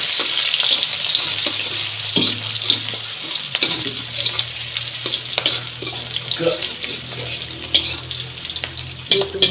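Shallots and garlic frying in hot oil while cooking a taro stem vegetable dish, a steady close sizzle with occasional stirring clatter and scraping, no one speaking.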